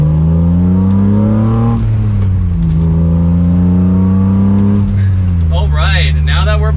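A 1996 BMW M3 E36 pulls away and accelerates, its engine note climbing in loud, steady pitch sweeps that drop at each upshift, with a brief higher whine near the end.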